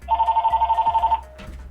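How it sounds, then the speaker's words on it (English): A house telephone rings with one rapid electronic trill of evenly pulsed tones lasting just over a second, loud and close, followed by a brief muffled noise. "And my house phone is ringing."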